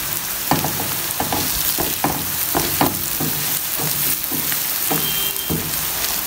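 A potato, tomato and egg mixture for an Afghani omelet sizzles steadily in a pan, with a spatula stirring and scraping at intervals over the constant frying hiss and no voices.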